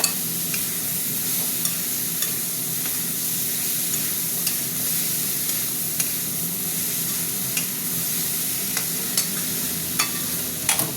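Okra and a squashed tomato fry in hot oil while being stirred. An even hiss of sizzling fills the whole stretch, with small clicks of the spoon scattered through it and no talking.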